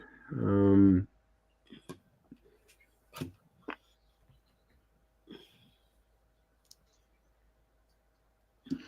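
Sparse, quiet computer mouse clicks tick at irregular intervals in a near-silent room, following a short vocal hum at the start.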